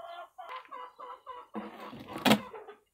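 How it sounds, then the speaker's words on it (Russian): Hens cluck in a series of short bursts inside a transport box, close and slightly muffled, building into a louder squawk near the end; the birds include Minorca and Uran breeds. "давайте откроем коробки и посмотрим, как доехали куры"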